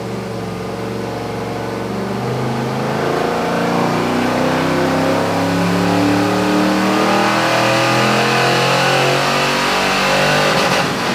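A car engine running under an email tune on a test run, a loud, sustained mid-pitched drone that climbs steadily in pitch as it accelerates over about eleven seconds, with no talking.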